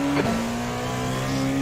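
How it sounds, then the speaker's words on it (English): A race car in the iRacing sim, at the Daytona 24-hour race, drones with a steady engine tone that rises slightly as it approaches, the engine note holding close and loud throughout. "There's a car approaching."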